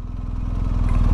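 A motorcycle engine idles in a low, steady rumble at slow speed, ridden on throttle only with the clutch fully out; the even throbbing pulses are close and loud and swell slightly toward the end.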